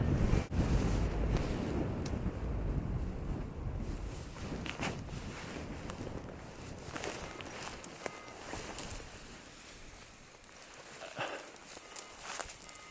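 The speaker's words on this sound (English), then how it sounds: "Yeah, the wind's in my face." Strong wind buffets the microphone on a hillside during paragliding in New Zealand, a loud gusty rumble at the start easing into steadier blustering with faint scattered knocks.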